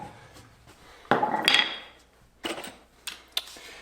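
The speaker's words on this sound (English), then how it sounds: "So you're gonna take a hammer and just hit the top of this." A hammer strikes the top of a wooden framed basement wall, a few separate knocks with pauses between them, the first one loudest.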